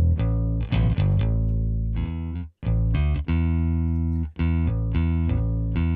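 Native Instruments Scarbee Rickenbacker sampled bass played through a stereo patch, a run of thick, sustained, effected notes with brief gaps between phrases, loud and close with no talking.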